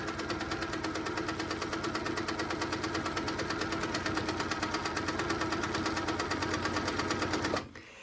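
A quilting machine stitches free-motion stippling across a quilt in a fast, steady, close mechanical whir of needle strokes. It runs alone for about seven seconds, then stops abruptly.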